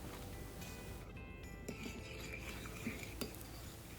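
A spoon faintly clinks and scrapes in a bowl as a cheese mixture with triple cheddar is stirred for a vegetable and bacon pie, quiet with a few sharper taps.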